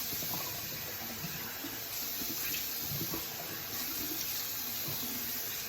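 Lukewarm tap water runs into a bathroom sink while a face is rinsed, a steady low trickle with soft splashes, fairly quiet and continuous.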